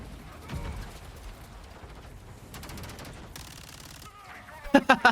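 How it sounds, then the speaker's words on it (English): A Vector submachine gun firing in Modern Warfare 2 gameplay, rapid bursts of automatic fire mixed with game effects, ending in a few loud, close bursts. "Some shots there of the Vector just going absolutely wild"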